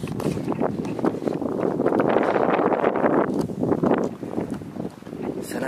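Strong winter wind gusting outdoors in South Korea at about minus two degrees near a frozen lake, roaring and buffeting the microphone loudly and continuously.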